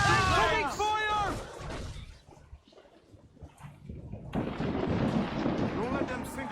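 Heavy ship cannon fire during an Assassin's Creed Black Flag naval battle: deep booming rumbles roll out beneath loud shouted crew voices, with a fresh cannon blast surging in toward the end.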